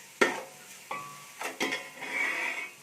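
A spatula stirs mushroom biryani masala with red chili powder in a hot pan, producing a few sharp metallic scrapes and clinks against a soft background sizzle, close and fairly quiet, with no talking.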